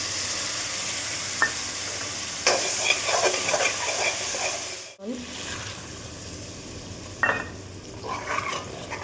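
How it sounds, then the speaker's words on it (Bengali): Okra fries in a pan with salt, turmeric and chili-garlic paste, giving a close, steady sizzle broken by stirring scrapes and clatter, with one sudden cut in the middle and faint background sounds. "ভালো করে কষিয়ে নেব"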